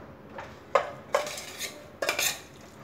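A spoon scraping and clinking in a pan as dry masala tinda is stirred, a handful of short metallic knocks and scrapes, close and fairly quiet with no talking.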